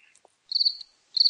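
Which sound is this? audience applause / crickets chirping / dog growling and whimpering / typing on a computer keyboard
crickets chirping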